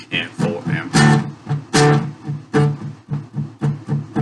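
Guitar intro to a song played with muted strings: rhythmic percussive chugging strums in a steady eighth-note pulse with periodic louder accented chords, close and clear, no talking.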